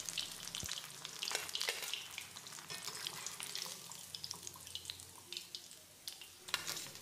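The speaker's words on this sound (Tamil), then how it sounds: "எண்ணெயில் நுரை அடங்கி வர்ற இந்த ஸ்டேஜில் நம்ம இதை எடுத்துடலாம்." Payyoli-style chicken pieces deep frying in oil make a steady bubbling sizzle with crackling pops, moderately quiet and close, heard alone without talk.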